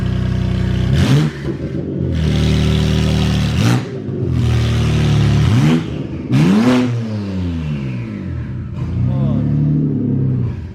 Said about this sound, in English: sounds like E92 with open headers.